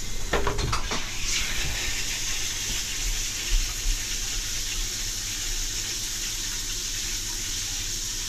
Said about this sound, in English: Run some water in there.